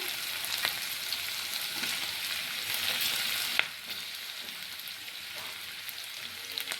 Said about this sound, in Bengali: এবার এর মধ্যে কেটে রাখা আলু দিয়ে দেবো